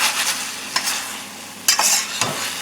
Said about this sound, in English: Last ingredient, about a tablespoon of sesame seed. We're going to scatter this in here.